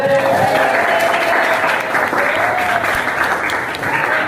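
Schoolchildren clap in a classroom for a classmate's good pretest score, a lively, sustained burst of many hands heard close, with voices mixed in.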